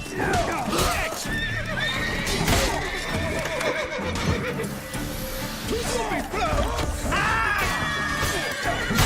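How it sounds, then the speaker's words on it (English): Horse whinnying loudly alongside clip-clopping hooves in The Witcher 3, with crashing and thwacking combat sounds and a busy, dense game soundtrack throughout. "Get the fucking horse out of the way!"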